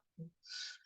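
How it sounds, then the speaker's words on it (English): Bird-call chime from a clock in a room, a soft low hoot followed by a brighter, higher chirping note, faint and distant in a quiet background. "Sorry if you can hear a bird in the background,"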